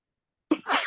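A single sharp sneeze bursts out close up after a silence, followed by a brief breathy tail.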